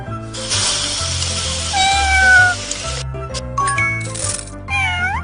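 Cartoon kitten meowing in a children's rescue game, several high plaintive mews over bright chiming game music, with a sparkling magic effect and more short meows near the end.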